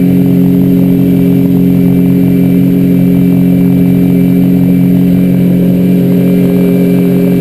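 Outboard engine on a 2003 Alumaweld 15-foot Stryker aluminum boat running out on the water while crabbing, a loud, steady droning hum at constant throttle with no talk.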